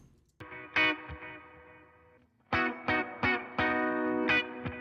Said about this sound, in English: And then I'm going to bring in the tape delay.